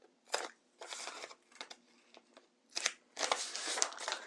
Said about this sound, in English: Wherever my stitching lines come to the cut edge, I'll notch those.